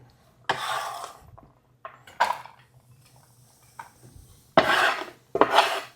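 Diced carrots tipped into a hot pan for chicken lettuce wraps, several short rasping scrapes and clattering tumbles against the pan, separated by quiet gaps, close.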